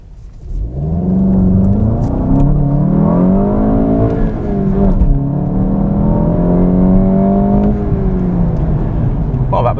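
A VW Golf GTI Performance (2018 facelift) accelerates hard from a standstill toward 100 km/h, its engine note climbing steadily through a couple of gears with brief dips at shifts, loud and continuous from the cabin.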